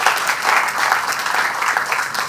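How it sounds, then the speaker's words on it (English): Audience applause at an aircraft unveiling ceremony, a dense steady clatter of many hands clapping continuously, close and fairly loud throughout. "Give yourselves a round of applause."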